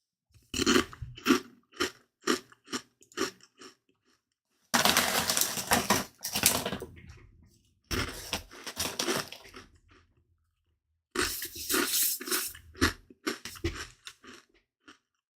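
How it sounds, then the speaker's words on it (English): Crunchy chewing of a snack during a live discussion, close and loud, in repeated bursts of crisp bites and grinding separated by short pauses, with no talking. "My apologies for any crunching sound."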